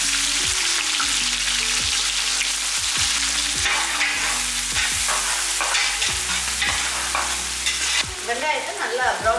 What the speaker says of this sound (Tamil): வெங்காயத்தை நல்லா ப்ரௌன் கலரில் நல்லா வதக்கிக்கலாம்.